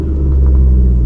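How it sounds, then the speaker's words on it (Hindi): A car engine on an uphill slope with the clutch at its biting point, the brake released and the accelerator pressed, giving a steady, loud low rumble that swells slightly as the revs come up. "इंजन का साउंड बदल जाता है"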